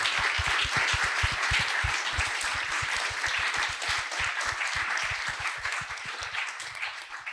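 Audience at a Danube Institute event applauding with steady, even clapping from a sizeable crowd, held at a constant level throughout.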